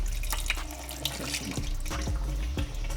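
Water drains out of the oil pan of a VW Bug engine, trickling and splashing continuously with irregular drips and gurgles, close by and alone.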